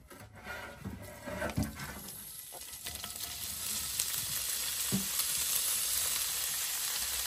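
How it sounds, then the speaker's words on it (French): Bacon lardons and onions frying in a cast iron pan, a close, rising hiss of sizzling fat that grows steadier and louder, with a few knocks and stirring sounds early on and no talking. "je vais venir faire revenir mes lardons et mes oignons, tout simplement"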